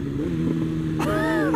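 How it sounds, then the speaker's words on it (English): A tuned BMW S1000RR sport bike holds a steady engine drone, then a sharp exhaust pop bursts out as the rider downshifts and the engine note shifts, close and loud. "listen to the pops on this thing when I downshift"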